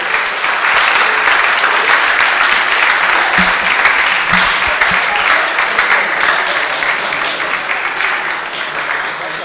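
Sustained, dense applause from an audience at the closing ceremony of a student science and technology innovation challenge, loud and even throughout, with a couple of faint voices briefly audible underneath.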